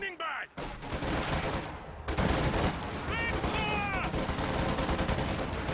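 Company of Heroes 2 battle gunfire as Panzer Grenadiers engage riflemen with flamethrowers: dense, continuous rattling bursts after a brief quieter opening, with a few thin tonal squeals layered over the clatter.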